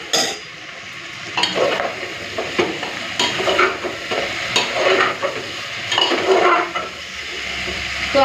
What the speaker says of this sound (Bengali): আলুটা দিয়ে আরও 2-4 মিনিট একটুখানি কষে নেবো